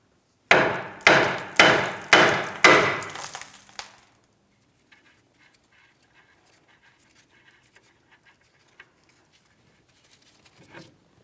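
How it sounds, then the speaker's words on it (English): A hammer strikes the steering knuckle of a 2007-2014 Ford Edge during a front wheel bearing and hub replacement: five loud, evenly spaced metallic blows that ring briefly, followed by near silence with faint shop noise. "We're tapping directly on the knuckle here."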